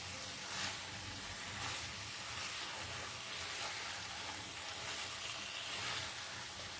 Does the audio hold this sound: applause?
no